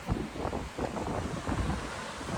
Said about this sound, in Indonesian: Tadi anginnya kenceng banget.